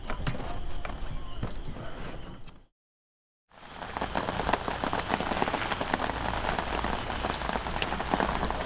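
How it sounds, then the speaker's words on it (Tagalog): Steady rain patters on surfaces at night at an overlanding camp in Sagada, Philippines, a dense close hiss that cuts out briefly to silence before resuming. "Sa aming unang gabi, binati agad kami ng ulan na lalong nagpalamig ng klima."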